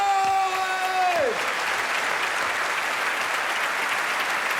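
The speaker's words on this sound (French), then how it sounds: "les applaudir très fort" A large audience at a comedy stand-up show applauds loudly and steadily throughout, while a fading sung tone and some voices sit under the clapping at the start.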